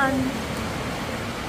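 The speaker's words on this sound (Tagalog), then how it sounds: "Sobrang lakas naman kasi ng ulan." Heavy rain pours down outside a house in the rainy season, a dense, steady, even hiss that fills the whole short stretch, with no one speaking.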